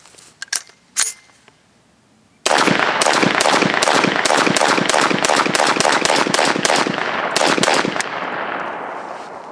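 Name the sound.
pistol firing .450 SMC rounds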